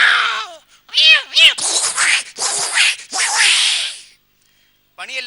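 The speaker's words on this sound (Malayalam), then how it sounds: "അവിടെ 2 പൂച്ചകൾ തമ്മിൽ വഴക്ക്." Two cats fight at close range. Loud yowling cries rise and fall in short bursts, mixed with harsh hissing and spitting, then break off into silence before a brief final squeal.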